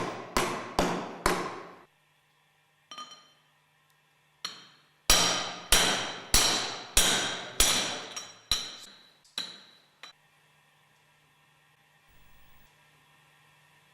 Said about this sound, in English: Carefully drive the groove ball bearing with a suitable pipe up to the distance bush